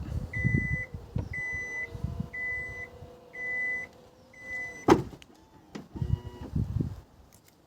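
Repeated evenly spaced warning beeps sound while the power tailgate of a 2023 Kia Niro EV closes after the key button is held, followed by a sharp latching thud and some softer knocks, heard close up.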